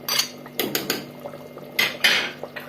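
A metal spoon scrapes and clinks against a cooking pot while grated tomato goes in, with a few sharp close taps and soft wet scrapes in an uneven rhythm.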